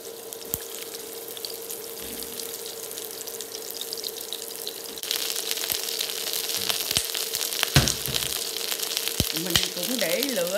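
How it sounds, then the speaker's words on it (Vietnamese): Sliced bitter melon fries in about two tablespoons of oil in a hot pan over medium heat, a soft steady sizzle that grows louder partway through, with a few faint knocks and clinks. "Rồi xong mình bỏ vô mình chiên."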